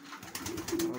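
A single pigeon coos nearby, a short soft throaty call rising into a low hum, with no talking.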